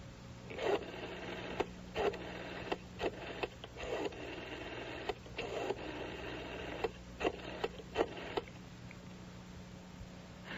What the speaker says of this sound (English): she was dialing the direct line to Bianca Voss's office